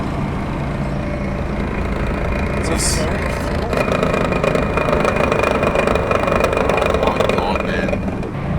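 A car with a blown-up automatic gearbox drives along, its engine droning steadily and loud throughout, with people talking excitedly over it.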